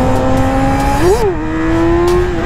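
A Yamaha R6 motorcycle at full throttle gives a loud, close, steady engine drone that climbs in pitch, briefly dips and rises again, with wind rush and no speech.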